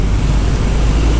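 Dense road traffic in a jam on the way toward Jakarta, a loud steady rumble of engines and tyres close by with no voices.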